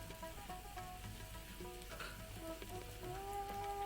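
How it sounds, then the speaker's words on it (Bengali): Boiled dal with its cooking water added to fried spice masala in a pan for dal makhani: a soft sizzle and frying crackle with occasional stirring scrapes, faint and close, no voices. "এবার আমি দিয়ে দেবো ওটার মধ্যে সিদ্ধ করা ডালটা"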